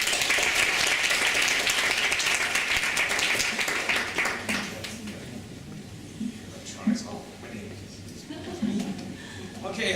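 Audience applause welcoming a professor at a library digital scholarship symposium opening ceremony, a dense burst of clapping that fades after about four seconds into quieter room sounds with scattered claps.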